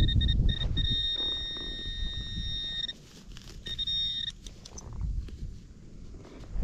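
A metal detector sounds a steady high electronic tone while sweeping a field during a drought year, held for about two seconds, then a shorter repeat, with outdoor wind and handling noise around it.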